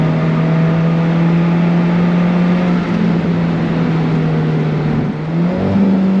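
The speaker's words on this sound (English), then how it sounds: "Nice shifts from that 6-speed dual clutch." A 2015 Alfa Romeo 4C Spider with a 6-speed dual-clutch gearbox and sport exhaust drones steadily and loudly from inside the car, its engine note holding constant with a brief dip and change near the end as a gear shifts.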